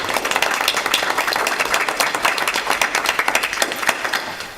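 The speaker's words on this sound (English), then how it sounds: "So if you can give him a round of applause." An audience at a village trustees meeting applauds, with a dense burst of clapping that thins into scattered individual claps toward the end, fairly close and loud.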